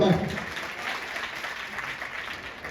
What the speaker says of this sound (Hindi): सर के ताली बजानी है सर।